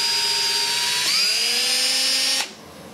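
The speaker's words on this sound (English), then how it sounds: "chuck it in a drill and then put it over top of the nail" Power drill with a hollow bit cutting out around a rivet nail during a Singer restoration, a close, loud, high whining spin that dips in pitch as the bit bites, then abruptly stops.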